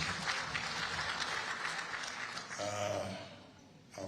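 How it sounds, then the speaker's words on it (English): Audience applause at a meeting of entrepreneurs and professionals in Abuja, a dense wash of clapping that holds steady for most of the stretch, then thins and fades near the end. "Please can we give ourselves a very big round of applause."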